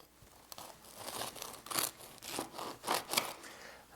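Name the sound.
tearing crusty bread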